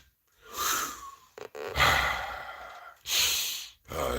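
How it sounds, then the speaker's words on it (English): Deep breaths drawn in and let out close to the microphone, three long airy swells with short pauses between them, and a brief sniff near the start. "Man, it feel good to get some air in your lungs."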